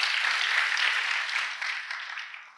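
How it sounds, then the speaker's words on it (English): Sustained audience applause at a national Silambam championship achievers' recognition, a dense, even wash of many hands clapping that holds steady and then gradually thins and fades. "Let's give them a round of applause."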